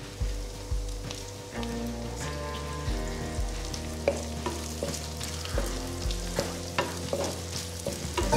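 Green chillies and curry leaves frying in a pan for an Alleppey-style prawn roast, with a steady sizzle and the repeated scrape of a spoon stirring, close and continuous, with no talk.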